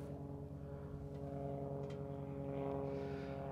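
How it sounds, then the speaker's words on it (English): Propeller airplane taking off, a steady droning engine with strong harmonic hum, continuous and moderately distant, no talking. "airplane taking off"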